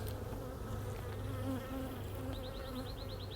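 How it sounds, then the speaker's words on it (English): Dense humming buzz of many honey bees filling a newly split beehive opened for inspection, a steady close swarm drone with brief higher wingbeat whines passing near the end. "take a look into one of these hives that I made a split in about 5 or 6 weeks ago"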